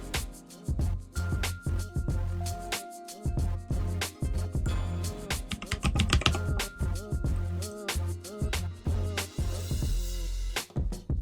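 Rapid keystrokes on a computer keyboard while typing text into Capcut, a steady run of close, crisp clicks with brief pauses, no talking.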